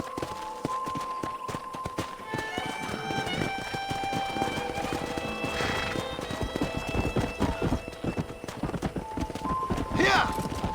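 Wild horses in Red Dead Redemption gallop with steady clip-clop hoofbeats and give a sharp whinny near the end, over game music and ambience while characters talk.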